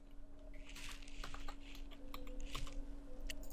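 Typing a spreadsheet formula on a computer keyboard, a quick run of light, close key clicks in irregular bursts over a steady low hum, with no speech.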